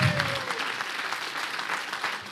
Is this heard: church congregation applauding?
yes